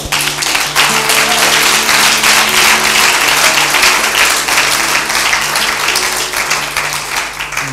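A church congregation applauding the Lord, loud sustained clapping filling the room steadily from start to finish, with a few voices and cheers mixed in beneath it.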